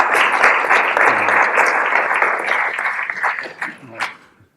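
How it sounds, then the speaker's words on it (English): Audience at a public conversation event breaks into dense, sustained applause that gradually thins out and fades near the end. "could you all clap Archie, please?"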